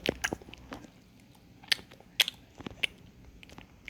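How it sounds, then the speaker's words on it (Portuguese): Chewing in the video game Chicken Life comes as a scattered series of sharp, crisp bites and crunches, irregular in rhythm and fairly close, with no talk over it. "Tô mastigando aqui o negócio"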